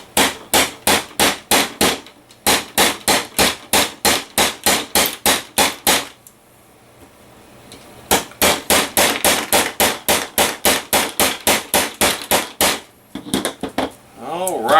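A hammer strikes a rivet setting tool to spread a rivet, in two long bursts of rapid, evenly spaced sharp metallic blows, loud and close, with short pauses between runs.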